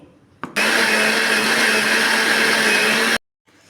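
A kitchen mixer grinder whirs loudly and steadily for about two and a half seconds, grinding tamarind and mint into a smooth stuffing paste for stuffed brinjal masala curry, starting and stopping abruptly with no talk.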